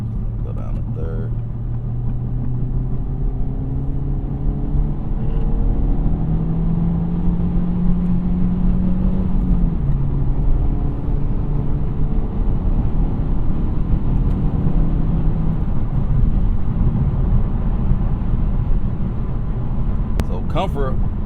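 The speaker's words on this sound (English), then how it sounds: "about to just cruise on the highway, see what it's gonna be like just normal driving" An Integra Type S cruises on a smooth highway with a steady low engine drone and constant road and wind noise throughout. A voice talks over it.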